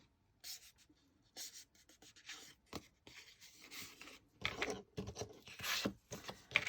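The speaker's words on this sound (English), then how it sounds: "So I'm just going to scour it with my thumbnail. And then I'm just going to bend it along that line." Paper being scored with a thumbnail and bent along the line while making a hinged book journal tag, close dry rubbing and crinkling strokes in short bursts, louder near the end, with no talking.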